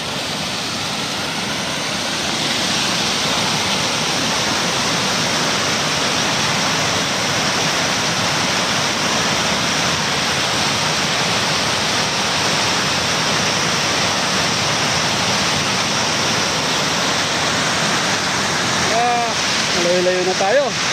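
Water pouring over a dam on the Bay Walk in Doha, Qatar, a dense, steady rushing roar heard close by throughout, with brief faint sounds near the end.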